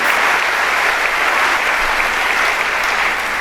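A crowd at a prayer summit hall bursts into thick, sustained applause, loud and continuous throughout with no break.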